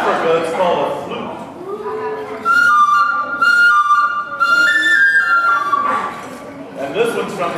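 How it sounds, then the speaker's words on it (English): An African flute played in a few bright, sustained tones with slight pitch shifts, close and clear, following a brief stretch of indistinct background sound. "This one's from Africa. It's called a flute."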